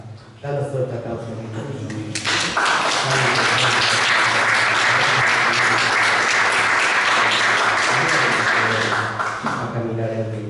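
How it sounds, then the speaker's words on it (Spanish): Loud, dense applause from a church congregation, rising after a short spoken lead-in and holding steady for several seconds before easing off as talk and background music return. "Danos fuerte aplauso."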